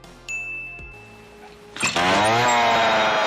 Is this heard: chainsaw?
yes